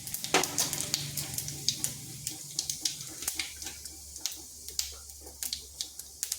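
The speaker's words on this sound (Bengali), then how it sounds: "ওই তেলের মধ্যে দিয়ে দিচ্ছি গোটা জিরা।" Whole cumin seeds sizzle and crackle in hot oil in a home kitchen, a soft steady hiss broken by many sharp pops and spits, fairly close but quiet.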